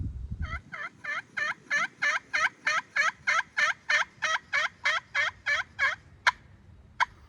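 About fifteen evenly spaced turkey yelps from a slate pot call and striker, clear and close, in a steady rhythm, followed by two sharp clicks near the end.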